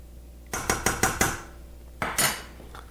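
Metal utensils clink and scrape against a pot of beef stew with potatoes and carrots, five quick knocks in a row, a pause, then two more, close and fairly loud.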